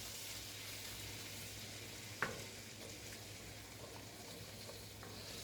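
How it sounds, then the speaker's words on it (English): Flour cooking in melted butter to make a roux for turkey pot pie, a steady soft sizzle throughout with a single sharp tick midway and no talking. "And just let this flour cook off."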